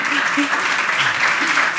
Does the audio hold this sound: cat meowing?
no